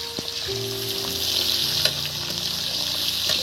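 Sliced onions hit a hot pan for restaurant-style chili chicken and fry with a loud, steady sizzle, with a few light clinks of stirring. No one speaks.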